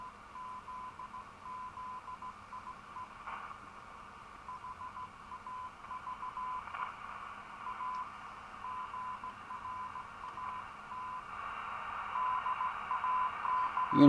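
Background noise from a superheterodyne radio receiver swells slowly as the gain is turned up, a steady faint hiss and hum with a thin tone that grows slightly louder toward the end.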